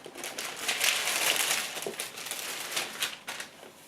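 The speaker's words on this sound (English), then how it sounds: "Tissue paper." Tissue paper rustling and crinkling inside a Hermès bag box during an unboxing, a steady close crackle with a few louder crumples over about four seconds.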